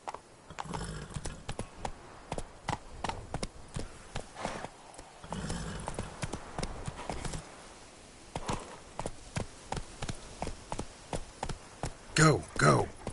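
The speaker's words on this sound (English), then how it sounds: "Whoa there, Roach" Hooves of a horse in The Witcher 3 clip-clop in a steady walking rhythm, moderately close, with brief louder steps and a short snort near the end.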